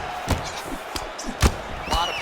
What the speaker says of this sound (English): Nice strike to the midsection glances.